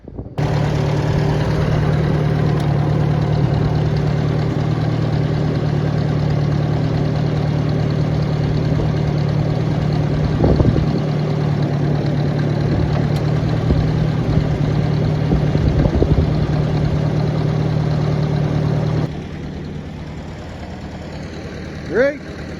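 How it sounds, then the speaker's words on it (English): A Ford 860 tractor engine runs at a steady, loud, low idle with a constant rumble and slight knock for about twenty seconds, then its level drops near the end, with occasional clanks and someone talking over it. "let's get the tractor running here"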